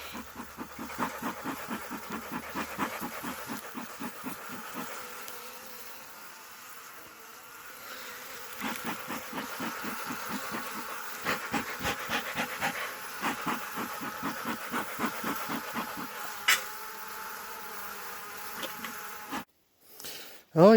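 Honey bees swarm and buzz loudly around an opened hive during a first hive inspection, just after smoke is puffed in, a dense continuous drone with pulsing wingbeat rhythm close by and no talking.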